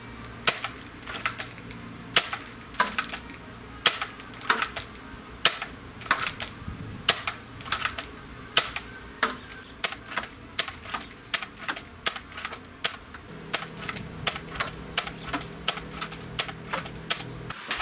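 Nerf Hammershot blaster fitted with an Orange Mod Works kit, fired repeatedly over a chronograph indoors: a long series of sharp, loud snapping shots at a steady rhythm, about one each second, with a low hum underneath.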